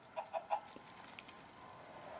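Short, quiet clucks from a crowned chicken in the video game Minecraft Story Mode, three quick bursts followed by softer scattered clucks over faint background tones.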